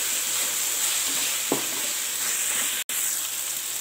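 Coriander and mint leaves sizzle steadily in hot oil in a pan while chicken pulao is cooked, with a constant close frying hiss, one brief stir clatter, and no talking.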